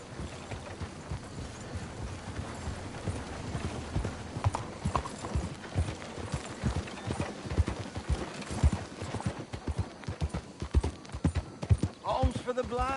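Horse hooves clip-clop steadily on a trail in the Western video game Red Dead Redemption 2, a close rhythmic trotting beat running throughout, with ambient game sounds layered beneath.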